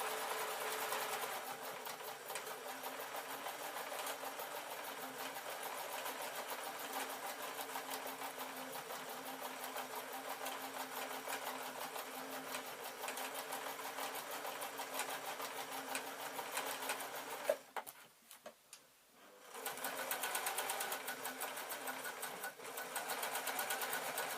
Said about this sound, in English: I'm just going to literally sew from the point there round to the top